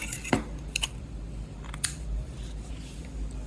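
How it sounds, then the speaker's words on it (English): Scissors cutting crochet thread for handmade earrings, a few sharp metallic snips, the first loudest, then two lighter clicks and a final snip, close-up over a low steady background hum. "Now I will cut the thread."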